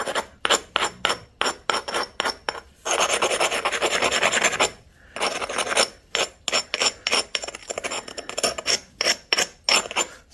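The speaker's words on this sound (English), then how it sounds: "I'm going to hit it with this finer abrader." A fine abrader rasps against the edge of an Arkansas novaculite flintknapping preform in short, quick scraping strokes, rhythmic bursts with one longer continuous rub in the middle, close and clear.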